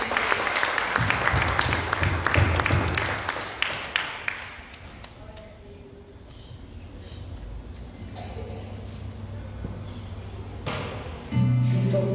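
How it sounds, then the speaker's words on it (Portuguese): A church congregation claps for the Lord during a service, loud sustained applause at first that fades into softer scattered clapping and room noise, with a brief swell again near the end. "Um aplauso ao Senhor."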